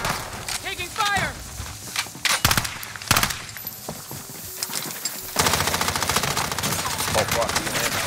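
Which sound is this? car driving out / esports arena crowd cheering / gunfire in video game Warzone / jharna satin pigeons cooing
gunfire in video game Warzone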